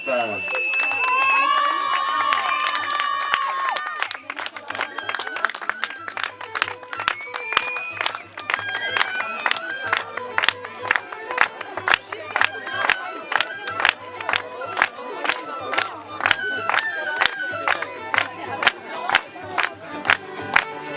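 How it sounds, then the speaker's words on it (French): Crowd cheering and applauding during a lap of honour for Normandy 2009 champions at a show-jumping event in Saint-Lô, with steady hoof-like rhythmic beats, shouts and whistles throughout; a voice speaks early on. "Alors vous allez pouvoir vous déchaîner pour les encourager, nos lauréats de la Club 2"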